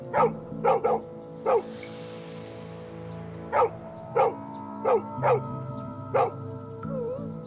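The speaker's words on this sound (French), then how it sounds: "Pourquoi tu aboies?" A dog barks in short sharp bursts, about ten barks in uneven clusters, close and clear over a quiet background hum.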